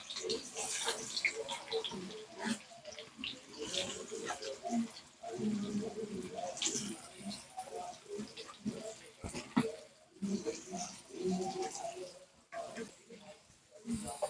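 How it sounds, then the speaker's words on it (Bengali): Onions dropped into a hot kadai of oil give off a steady hissing sizzle with bubbling crackle that continues throughout, with a voice talking over it. "কড়া গরম হয়ে গেছে, দিয়ে দিচ্ছি পেঁয়াজ।"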